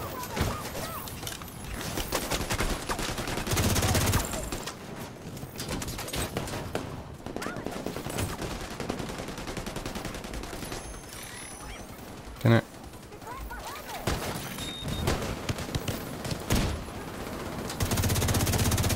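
Sniper gunfire cracks out in the video game The Division 2 during a New York firefight, as sharp shots mixed with bursts of other gunfire. Game voices talk over the battle noise, and the shots vary in distance.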